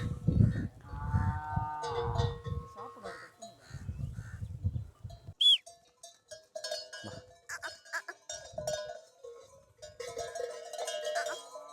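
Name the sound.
native cattle mooing in a field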